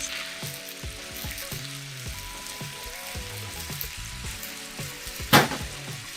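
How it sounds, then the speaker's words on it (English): Frozen vegetables hit a hot pan with sesame oil and sizzle loudly and continuously, with a few clatters and one sharp bright hiss near the end. "Now, in go our vegetables."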